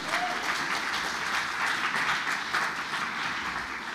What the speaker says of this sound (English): a big round of applause for Lewis.